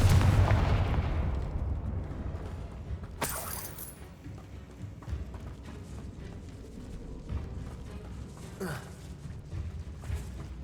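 Confringo fire spell blasting in the video game Hogwarts Legacy: a heavy explosive boom opens loud and rumbling, then decays into a crackling, rumbling tail with a sharp burst a few seconds in and scattered debris-like clatters.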